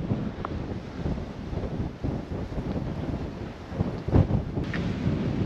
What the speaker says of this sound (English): It's very windy, but the weather's beautiful